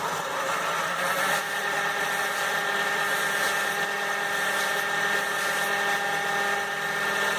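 A grinder fitted with a small 6-inch wheel works a golok knife blade with a steady, loud, continuous whine and hum. Faint surges come as the steel is pressed against the wheel.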